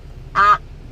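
Duck quacking inside a brand-new car bought off the dealer lot, a single short nasal quack heard up close against a quiet cabin.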